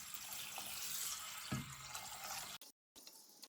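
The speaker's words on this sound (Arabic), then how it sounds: "هسه انا اول شيء عندي كاسه راح اضيف بيها كوب عدس احمر، راح انزل فوقها مي مال بوري." Tap water pours steadily into a bowl of red lentils in a kitchen, a continuous rushing splash that cuts off briefly near the end, with no talking.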